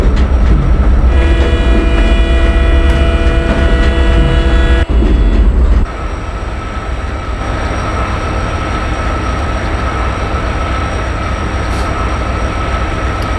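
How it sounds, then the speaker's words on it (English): Nagercoil Express passenger train rolling across a river bridge, loud continuous wheel rumble with tonal ringing from the girders early on, then a shift to a steadier, slightly lighter clatter for the rest. "We are crossing the river."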